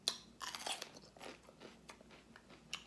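Close, wet crunching and chewing of raw sweet peppers at a mukbang table laden with sushi rolls, with irregular bites and mouth sounds across the whole stretch and no talking.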